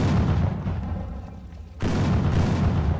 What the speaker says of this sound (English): Orcs and goblins. Throwing bombs at me.